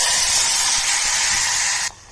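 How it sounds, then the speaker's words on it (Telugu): Tomatoes hit hot oil in a pan with a loud, bright burst of sizzling hiss that holds steady for nearly two seconds, then cuts off abruptly, leaving quiet background. "ఇప్పుడు టమాటాస్ వేస్తున్నాను"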